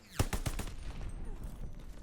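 Rapid bursts of BAR rifle fire in the World War II shooter Call of Duty: Vanguard, several sharp close shots in the first half-second, then a rumbling tail of battle noise.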